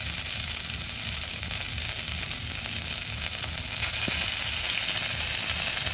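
Ginger paste sizzles in hot oil with radhuni seeds and other spices, a loud, steady, close frying hiss that runs unbroken throughout with no voices.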